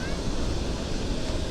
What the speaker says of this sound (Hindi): ये देखो गाइस, हमारे यहाँ की ये दूध धारा है जो भेड़ाघाट धुआंधार के नाम से प्रसिद्ध है।